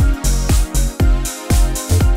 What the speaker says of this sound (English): The D50 has some great bell sounds.